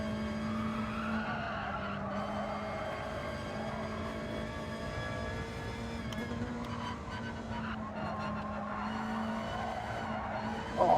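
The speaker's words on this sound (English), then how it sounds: "sliding into the wall as we couldn't get the grip" Gran Turismo 7 race car sliding on a track with poor front grip, its engine droning steadily while tyres skid and squeal continuously for the whole stretch, loud and close, ending with a sharp burst as it slides toward a wall.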